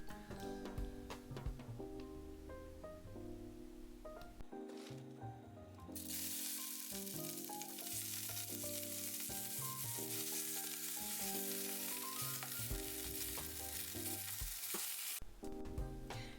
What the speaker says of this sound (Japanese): 油を敷いてキャベツを入れていきます